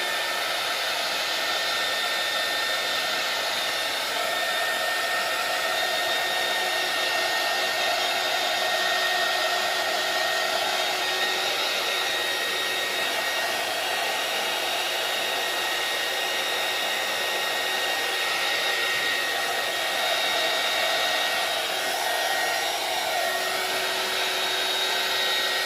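A heat gun drying a craft lace box blows a steady, unbroken electric whoosh with a thin whine on top, close and constant throughout with no talk.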